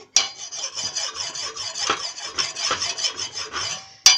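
A kitchen knife is sharpened against the unglazed rim of a ceramic cup, giving a steady, close, gritty rasp of repeated back-and-forth strokes for about four seconds, with no voices.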